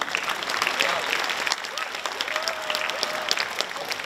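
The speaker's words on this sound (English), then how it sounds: "Put your hands up and let's give them a round of applause." A crowd claps steadily in a room, dense applause throughout with a few voices faintly audible underneath.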